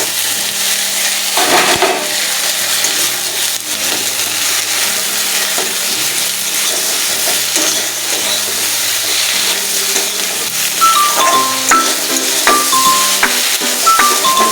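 Vegetables tossed into fried spice paste sizzle loudly and continuously in a pan, a close, dense hiss with stirring, while steady background music plays underneath.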